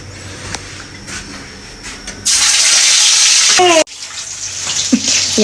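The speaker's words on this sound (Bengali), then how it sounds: "মাছ ভাজি হচ্ছে" Hilsa fish coated in turmeric and salt sizzles in hot oil: a loud, steady frying hiss bursts in partway through, cuts off sharply, then returns as a quieter sizzle with faint clinks and brief voices.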